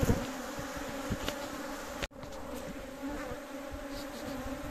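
Bees swarm around a rustic wooden beehive box, giving a steady close buzzing hum that runs through the whole stretch, with individual insects passing near and one brief dropout midway.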